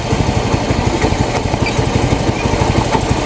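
A Mio i 125 motorcycle engine idles steadily after its idle screw has been adjusted for the air mixture, a close, even low-pitched putter with a fast regular pulse and no voices.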